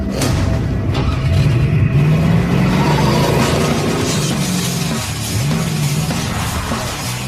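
A 1972 Chevrolet Chevelle engine revs and rumbles during slalom and drag strip driving, a loud, continuous low roar with the pitch rising and falling as the car accelerates, plus road and wind noise.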